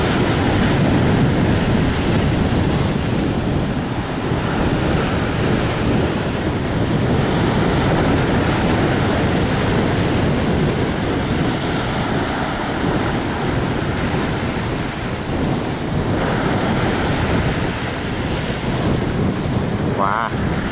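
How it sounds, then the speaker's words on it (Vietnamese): Big ocean waves and strong wind batter an iron boat out at sea, a loud continuous roar of surf and gusting wind noise rumbling on the microphone throughout. "Đẹp này là sóng gió ớn quá các bạn."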